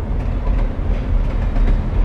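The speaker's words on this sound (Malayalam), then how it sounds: "അല്ല അല്ല, ട്രെയിൻ പോണതാ" A train rolls past in the Alan Wake Remastered video game near a coal mine, a steady loud low rumble with rhythmic clattering of the cars, unbroken throughout with no talk.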